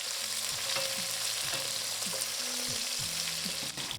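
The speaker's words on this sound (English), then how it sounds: "I added in the onions and browned them" Onions brown in hot oil with whole spices, making a continuous close sizzle broken by intermittent stirring scrapes and the low knocks of a utensil against the pan.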